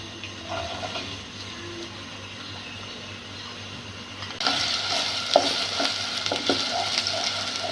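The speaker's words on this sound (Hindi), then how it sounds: "गर्म हो गया, अब हम एक छोटा प्याज डालेंगे।" A small onion dropped into hot oil for aloo keema sets off a sudden, loud sizzle that continues as a steady frying hiss with occasional pops and stirring sounds.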